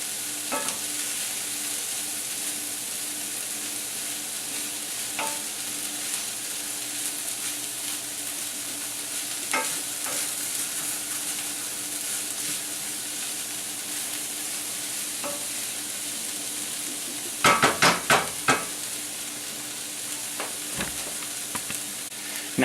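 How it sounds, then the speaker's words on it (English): Ingredients sizzle steadily in a frying pan while a utensil stirs them, a constant hiss broken by a few soft scrapes and a brief cluster of louder clinks and knocks near the end. "just stir that up to make sure that it's all incorporated"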